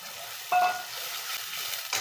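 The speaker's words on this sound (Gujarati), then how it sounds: "હવે હું આ પાલકની પ્યોરી છે ને એ નાખી દઉં" Spinach puree dropped into a pan of sizzling onions gives a sudden wet splash, then a low, steady frying hiss continues close by with faint stirring, no voices.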